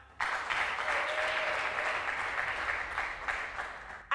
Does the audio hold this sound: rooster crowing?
no